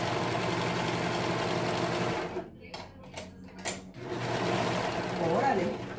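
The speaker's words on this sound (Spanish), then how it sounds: "Miren, cuando su máquina está cosiendo así de feo, es cuando ya saben que tienen que apretarlos." Overlock serger sewing machine stitching with loose, badly adjusted tension, a steady mechanical whir that drops away briefly mid-clip and then resumes loud and close.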